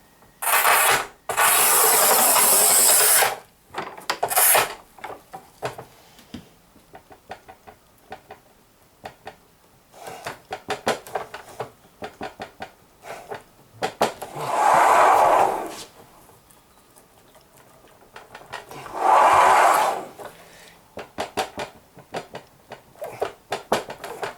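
A HAISSER manual tile cutter scores 11 mm glossy porcelain stoneware in several loud, sustained rasping passes, each a few seconds long, separated by quieter handling clicks and knocks.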